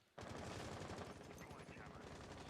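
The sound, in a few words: gunfire in a video game match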